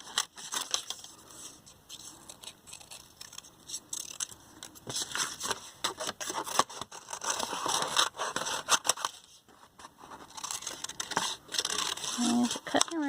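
Scissors cutting paper eggs out of a sheet for a nest craft, with repeated close snips and rustling, crinkling paper, and a person talking over parts of it.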